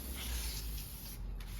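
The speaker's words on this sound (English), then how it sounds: "Spray it." A steady hiss of an aerosol spray can used on the front brakes of a 2016 Chrysler 300, close and fairly quiet, running continuously for about a second and a half with no talking.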